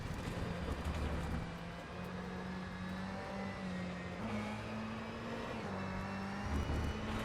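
A race car engine in the rFactor 2 sim racing game drones steadily, its pitch shifting up and down as the car works through gears and corners, a continuous moderate-volume hum with no talking.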